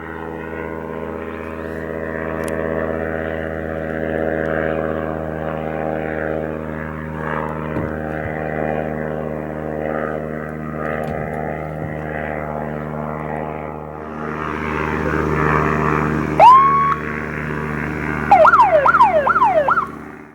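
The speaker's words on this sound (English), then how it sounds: "Low-flying aircraft can be heard as they fly over." A low-flying propeller airplane passes overhead with a loud, steady droning engine hum that swells louder toward the end as it comes over.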